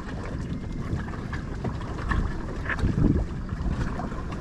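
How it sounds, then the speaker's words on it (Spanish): Pedal boat gliding across the lake at Río Dulce, Izabal, Guatemala, with a steady low rumble of water and churning, heavy wind buffeting the microphone throughout. "Así que acá estamos sobre una lancha de pedales"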